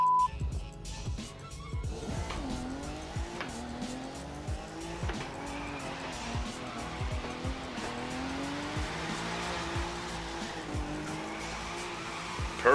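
A car drifts through a Red Bull drift event at an airport terminal in The Crew 2 video game, with a revving engine whose pitch sweeps up and down, repeated gear shifts and long tire squeals, loud and continuous.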